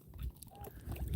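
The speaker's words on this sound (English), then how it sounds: "I'm surrounded by 9 versions of Canada geese" Several Canada geese, including a hybrid and a cackling goose, honk faintly nearby in a short burst of scattered calls over low background rumble.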